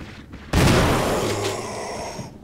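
A single loud gunshot in the survival-horror video game Resident Evil HD Remaster bursts in suddenly, followed by a long, booming reverberant tail that slowly fades over about two seconds.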